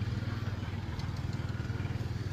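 A small four-cylinder rear-engine tractor at a farm tractor show runs with a steady low, throbbing engine rumble, close and continuous.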